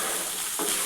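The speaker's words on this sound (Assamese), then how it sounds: "মই ইয়াতে কচুখিনি আৰু আলুখিনি ইয়াতে দি দিলোঁ এইখিনিতে আৰু অকণমান ভালদৰে ভাজি পানী দি দিম" Taro and potato pieces fry in a pan, giving a steady, loud sizzle with a stirring scrape partway through, and no voices.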